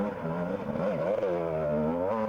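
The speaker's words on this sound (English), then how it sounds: "Running the low RPM on that two-stroke, getting some traction on the rocks" A two-stroke dirt bike engine at low RPM climbs over rocks during a GNCC cross-country race at Mountain Ridge, a steady burbling drone that rises and falls in pitch, close and continuous with no talk.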